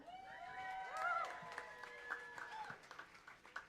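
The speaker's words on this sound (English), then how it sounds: "Big round of applause for my brother Fuad" Applause with scattered cheers and whoops rises from the crowd at a community awards event, sustained clapping beneath rising vocal shouts, fairly distant and modest in level.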